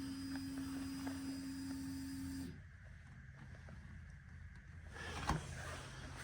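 A car's ignition is keyed on in freezing weather after a fuel line repair, and a steady electric whine from the fuel pump priming hums for a couple of seconds, then cuts off, leaving a quieter low drone.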